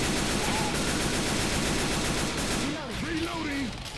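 Shotgun blasts and automatic gunfire from Left 4 Dead 2 pour out as a continuous dense barrage, loud and noisy throughout, with players talking over it.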